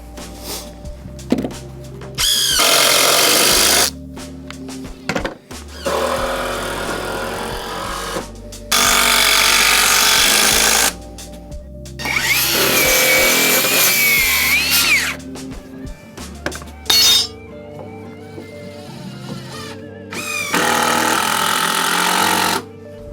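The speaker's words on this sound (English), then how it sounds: "He's gonna be throwing screws in the deck right behind me" A power drill drives screws into deck boards in repeated bursts of loud whirring, each a few seconds long and separated by brief pauses and thunks.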